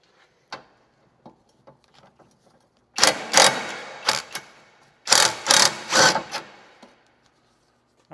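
A ratchet fitted with a swivel on an extension loosens a front sway bar link on a 2013-2022 Buick Encore or Chevy Trax, with faint clicks early on, then two close, loud bursts of rapid ratcheting.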